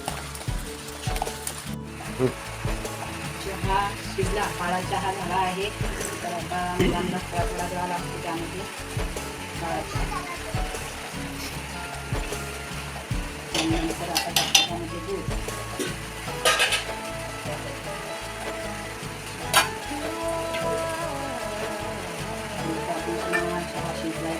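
Steady sizzling of bhaji fritters frying in hot oil, with occasional clinks and scrapes of a utensil against the pan.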